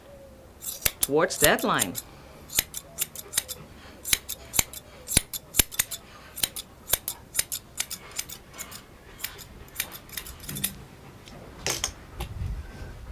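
Repeated crisp snips of grooming scissors trimming a dog's coat on a Bouvier, a steady run of sharp clicks at close range with brief speech at the start.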